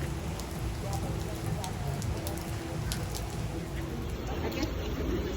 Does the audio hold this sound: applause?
no